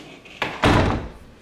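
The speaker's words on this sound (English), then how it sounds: "Let me shut this door." A door is pushed shut indoors, giving a light contact knock followed by a solid, close thud that fades quickly.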